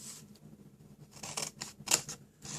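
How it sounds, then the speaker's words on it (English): Scissors trim Stampin' Up Painted with Love patterned card and round off its corners in a few quick, close, sharp snips over a quiet background. "So I'm going to trim up these and round them corners off as well."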